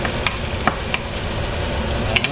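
Garlic frying in a hot pan, a steady close sizzle with a few sharp clicks of a utensil against the pan, no talk.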